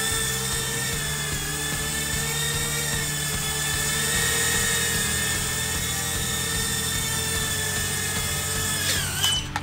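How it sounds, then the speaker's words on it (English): Small Nanohawk drone motors whining steadily at close range, a continuous high-pitched buzzing drone with sustained tones that shifts slightly in pitch as throttle and direction change, ending in a brief rise. "It goes right, left, forward, backwards, yaw works, and our throttle is working."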